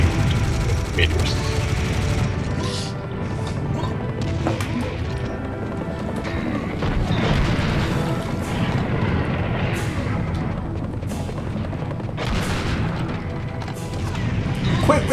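Meteors crash down with repeated booms and smashing impacts in the Grand Cathedral level of Serious Sam HD: The Second Encounter, a loud, continuous barrage mixed with gunfire and game noise, with voices talking over it.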